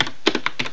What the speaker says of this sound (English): give enter to your keyboard